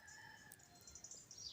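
A rooster crows faintly in the distance at dawn from a woodland, a drawn-out call over soft background bird chatter and low hiss.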